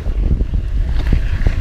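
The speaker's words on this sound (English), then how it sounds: "It's a really windy day" Strong wind gusts buffet the microphone in a forest, a loud, continuous low rumble with no voices.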